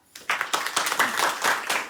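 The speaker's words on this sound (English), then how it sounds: "One big clap for the kids here." Audience clapping for children at a New York devotional gathering, a burst of handclaps starting abruptly and continuing steadily, fairly close and dense, with no talk over it.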